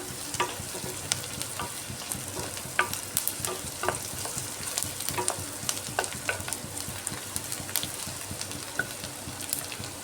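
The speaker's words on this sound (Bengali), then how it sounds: "পেঁয়াজটা পিঙ্ক কালার হওয়া পর্যন্ত ভেজে নিচ্ছি" Chopped onions sizzle steadily in hot oil in a pan as they fry toward pink for a potato and fish roe curry, with frequent scraping stirs and small spatters throughout, close and alone.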